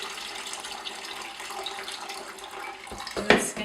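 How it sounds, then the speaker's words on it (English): Water from grated potatoes pours steadily into a sink, a close continuous splashing that ends in a short louder gush. "drain most of the water off"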